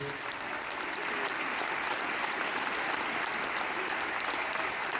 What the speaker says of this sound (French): On peut l'applaudir très fort, s'il vous plaît.